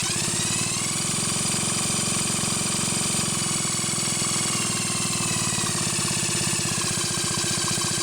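A McCulloch SP125 chainsaw fitted with an aftermarket HEI ignition module runs continuously at a steady, loud, buzzing pace, close and without pauses.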